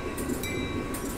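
A train in a Roblox video game rumbles steadily with a low mechanical drone and faint periodic hiss, sounding like it is easing down in speed.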